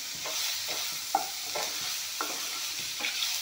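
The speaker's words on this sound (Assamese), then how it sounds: "অলপমান বিলাহীখিনি কণীৰ লগত একেলগে ধুনীয়াকৈ ভাজি ল'ম।" Tomatoes and eggs fry together in a hot pan, a constant bright sizzle broken by regular scraping strokes of a spatula stirring them, close and clear with no voices.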